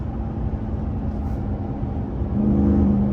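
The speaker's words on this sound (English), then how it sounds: "Just rolling around in the TRX, man. Listen to how it sounds." A Ram TRX pickup truck's engine rumbles steadily inside the cab, a low droning hum that swells louder toward the end as it picks up revs.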